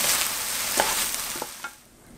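Sweet potato stems stir-frying in a pan with soy sauce, chili flakes and perilla seed powder, giving a steady close sizzle with a few scraping stirs that fade toward the end.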